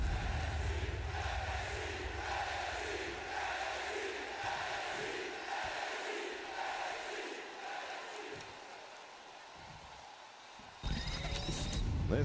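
Wrestling arena crowd in the video game WWE2K25 at a WCW Clash of the Champions event roars steadily with rhythmic chanting swells, then a louder sharp burst of noise near the end.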